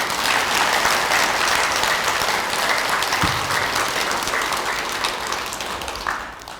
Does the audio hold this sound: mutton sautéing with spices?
no